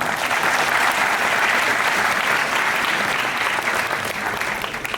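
Enthusiastic audience claps for the band at a live concert event, a thick wall of clapping and crowd noise that stays loud throughout and eases slightly at the end.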